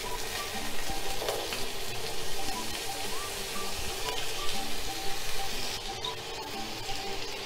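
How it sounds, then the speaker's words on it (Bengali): Potatoes deep fry in hot oil for a fragrant prawn curry, a steady, even crackling sizzle that runs throughout with faint bubbling and no talk. "তেলটা গরম হয়ে গেছে, এবার আমি আলুগুলো দিয়ে দিলাম। আলুগুলো আমি ডিপ ফ্রাই করে তুলে নেব।"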